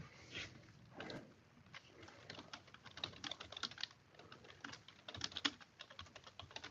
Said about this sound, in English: I'm just typing that in now before I forget.